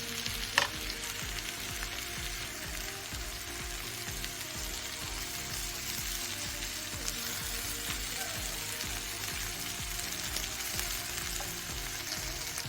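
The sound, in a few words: ivy gourd (kovakka) frying and being stirred in pan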